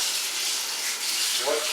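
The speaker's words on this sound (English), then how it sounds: "Now, rinse it off with cold water." Cold tap water runs steadily over pasta in a strainer, a continuous close splashing rush with no pauses.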